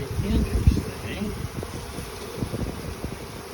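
Honeybees buzzing at a hive in late February on a mild day, a close, dense hum with wind rumble and handling bumps, a voice partly audible beneath it.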